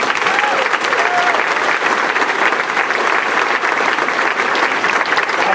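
A crowd at a winery gathering for Indiana football applauds a transfer player, with thick, steady clapping that fills the space evenly and loudly from start to finish.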